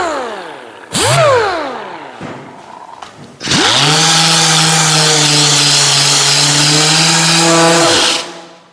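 A power tool strips metal on the nose cone of a 1970 Ford LTD under restoration. It gives a brief loud whine near the one-second mark, then spins up into a sustained, loud, steady grinding roar that runs for about five seconds before winding down.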